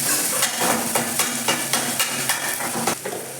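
Green chillies go into a hot frying pan in a home kitchen, giving a continuous loud sizzle with repeated rhythmic stirring scrapes and taps of a spatula against the pan.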